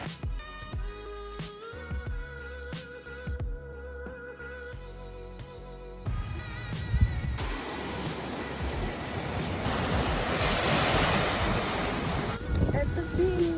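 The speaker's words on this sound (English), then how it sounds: "At the beach." Waves washing onto a beach, a broad steady roar of surf with strong wind buffeting the microphone, quieter at first and then swelling louder for the rest.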